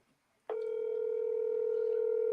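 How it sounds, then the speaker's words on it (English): A telephone line clicks open and a steady, continuous dial tone starts, loud and close, holding unbroken to the end with no talking. "Let's get Terry on the phone"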